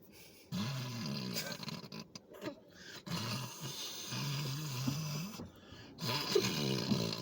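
A man imitates loud, growly snoring with his voice, several rasping low snores in a row filling most of the span, with brief pauses between them.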